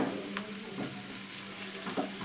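Chopped green chillies go into a pan where onion and capsicum are already frying, producing a quiet, steady sizzle with a few faint stirring clicks.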